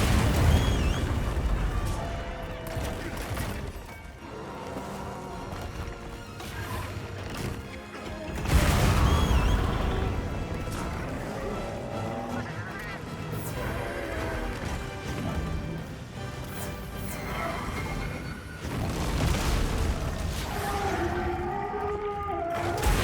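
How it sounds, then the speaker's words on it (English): Heavy crashing booms and impacts from bombs blasting a large monster in Monster Hunter Wilds, layered over a dense, loud game soundscape with a swelling burst near the middle and continuous rumbling battle noise throughout. "Bombs on him."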